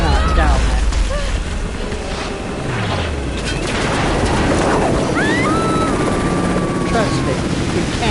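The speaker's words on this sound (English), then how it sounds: "Don't stop to shoot the helicopter because you cannot down it." A helicopter in Rise of the Tomb Raider thrums loudly and steadily throughout, with rotor noise under scattered gunfire and game effects.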